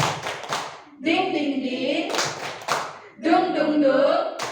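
Rhythmic group clapping game called tepuk semangat, with bursts of hand claps and taps alternating with sung or chanted voices, performed by a group at close range.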